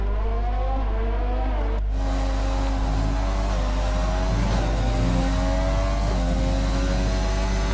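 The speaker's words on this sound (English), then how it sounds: "Listen to that Honda powered engine" A Honda-powered Formula 1 car in the F1 2020 racing game at the Australian Grand Prix, its high-pitched engine wailing loudly and steadily with rising and falling revs, alone without any talk.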